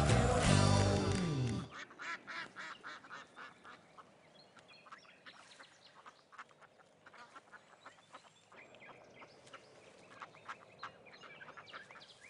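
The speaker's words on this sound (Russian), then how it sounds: "Я утку подсадную" A loud burst of noise gives way to a quiet stretch of ducks quacking and chattering in irregular bursts, fairly faint and continuous.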